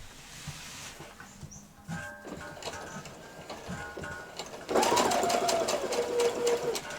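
A sewing machine runs steadily with a twin needle, stitching the hem of a T-shirt, its whirring motor and rapid needle ticking loud and close after a few seconds of quiet handling.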